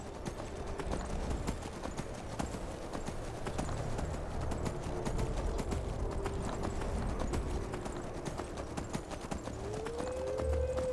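Horse hooves clip-clop steadily in the Skyrim video game, an even trotting rhythm that runs the whole time over outdoor ambience, with a brief whinny near the end.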